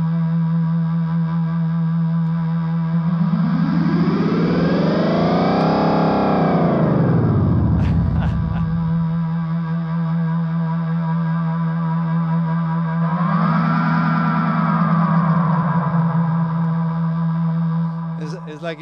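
Drums fed through a Space Echo tape-delay effect, producing two big swooping, pitch-bending feedback swells that rise and fall like a revving engine over a constant distorted drone, loud and continuous with no talk.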